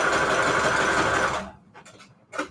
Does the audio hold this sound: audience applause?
no